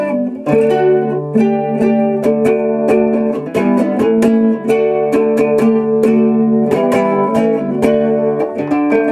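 Homemade bowl-bodied string instrument with gut strings, amplified through a pickup: close, loud plucked notes and chords ring in a steady melodic run with warm sustain and sharp attacks, played alone without talking.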